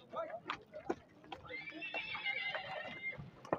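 Horses neigh at a Nookat horse market, a long rising-and-falling whinny in the middle over scattered hoof clops, crowd chatter and nearby talk.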